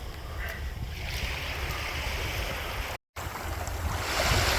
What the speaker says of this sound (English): these are little waves.